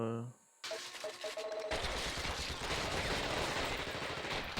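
Rapid turret gunfire in the video game The Thing Remastered, a dense continuous burst of shots that starts abruptly after a short musical sting and runs loud to the end.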